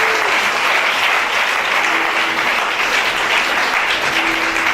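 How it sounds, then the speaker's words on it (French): A church congregation applauds loudly and steadily, a dense, continuous clapping that fills the whole stretch with no pauses. "Acclamons très fort Jésus."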